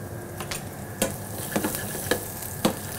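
Halibut sizzles in a frying pan with peppercorn seasoning while being sautéed, a steady close frying hiss broken by several sharp scrapes and taps of a utensil stirring.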